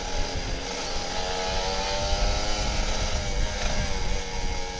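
A Kawasaki Ninja RR 150 revs loudly and steadily, its engine buzzing close and continuous with a rough, high-pitched rasp.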